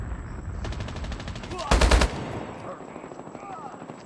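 Automatic weapon fire in Call of Duty Mobile, a rapid volley followed by a louder, sharper burst, with game effects and a voice in the background.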